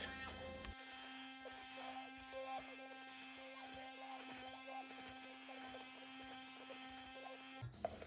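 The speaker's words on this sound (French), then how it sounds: "bien mixer jusqu'à ce que ce soit lisse" A blender purées apricot butter with cardamom until smooth, giving a steady, low, even motor hum that runs for about seven seconds and then stops abruptly. The sound is fairly faint.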